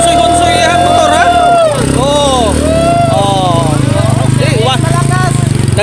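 A motorcycle engine revs loudly up close, its pitch rising and falling in repeated sweeps over a steady drone, with people talking throughout.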